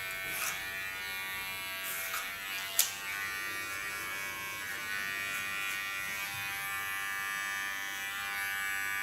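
An electric hair clipper trims a man's hair for a men's hairstyle, giving a continuous high, even buzz throughout, with one small click midway and no voices.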